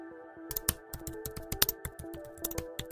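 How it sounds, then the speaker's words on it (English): Quick bursts of keystrokes on a computer keyboard, close and fairly quiet, in an irregular typing rhythm with several sharper taps standing out over a steady low hum. "Now we can type."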